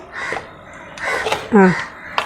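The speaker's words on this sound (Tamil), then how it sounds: "நான் சாப்பிட்றணுன்னா காக்கா கேட்குதுங்க சாப்பாடை" A crow caws for food near someone eating a coconut rice meal, giving several harsh, close caws in uneven bursts, the loudest near the end.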